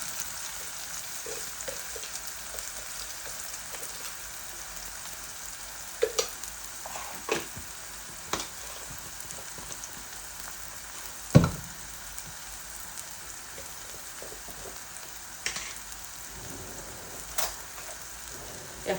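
Eggs and lentils frying bhuna-style in a pan give a steady, soft sizzle, broken now and then by a few sharp clacks and stirring knocks. The sounds are moderately close, with no voices.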